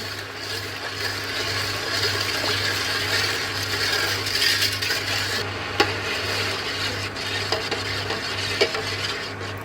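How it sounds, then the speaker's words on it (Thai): White sugar being stirred in a pot of water to dissolve it for homemade green grape wine, a steady scraping swish over a constant low hum, with a few sharp clinks near the end. "คนให้น้ำตาลทรายละลายก่อนนะ"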